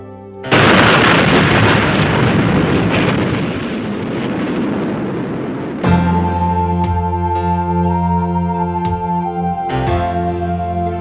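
Atomic weapon detonation: a sudden massive roar that swells loud and sustained for several seconds, then gives way to a lower rumbling tail overlaid by steady tones.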